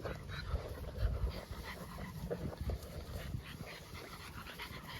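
Dogs of different ages tug and chew on a cow hide up close, panting hard with scuffling, gnawing and faint whimpers, a busy, continuous scramble with no talk.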